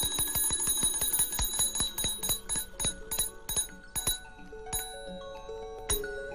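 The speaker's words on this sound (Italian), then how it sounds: "che attivava il campanello" An electric telegraph bell rings in a rapid metallic clatter of repeated strikes that gradually slows into a few widely spaced, resonant dings that linger and fade.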